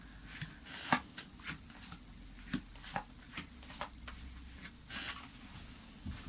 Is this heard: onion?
no